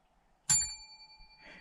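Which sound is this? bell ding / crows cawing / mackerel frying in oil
bell ding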